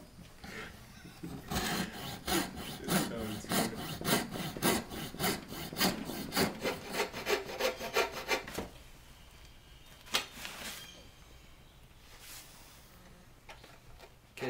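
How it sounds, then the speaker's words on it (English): Coping saw cutting a dovetail in wood while repairing a broken chair leg: brisk rhythmic back-and-forth strokes for about eight seconds, close and fairly loud, then quieter scraping, a single sharp knock and light handling noises. "coping saw and then a chisel just to cut that dovetail out"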